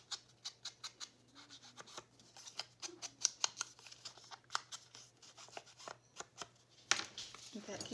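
Paper-craft scissors snip the corners of a mini journal page, a string of short crisp cuts in quick irregular rhythm, close and fairly quiet, ending with a sharper snip.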